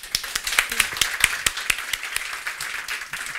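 Seminar audience clapping in a room, a brisk run of individual sharp hand claps close by, uneven and fairly sparse, with some murmuring voices underneath.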